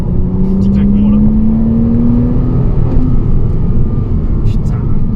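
A Porsche Cayman S 987 engine on a circuit under light throttle gives a loud, close, steady drone whose tone climbs slowly, with a faint crackle partway through.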